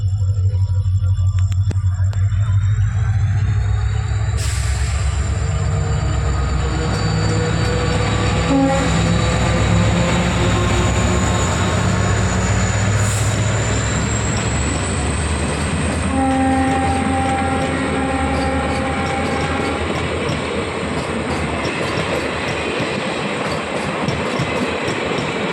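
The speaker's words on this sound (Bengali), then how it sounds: "ট্রেনটা চলে গেল" A train passes close by for a long stretch, with a loud continuous rumble, clattering wheels on the rails and a sustained horn blast.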